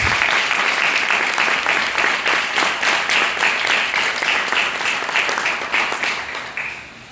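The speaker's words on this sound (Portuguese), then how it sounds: "Você pode dar uma salva de palmas para Jesus?" Congregation at a church service breaks into sustained applause, a loud, dense patter of many hands clapping close by, steady for several seconds before fading near the end.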